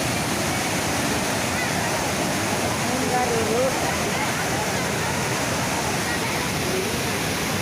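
Steady, loud rushing water fills the whole stretch, a dense broadband roar of fast flow through a canal channel, with a faint voice briefly audible underneath.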